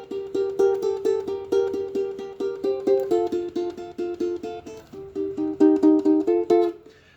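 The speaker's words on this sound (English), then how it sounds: "It's meant to be done on guitar, but sounds quite cool on ukulele as well." A ukulele plays a fingerstyle lead rhythm part, plucked notes repeating in an even, lively pattern with shifting chords, close and clear with no voices.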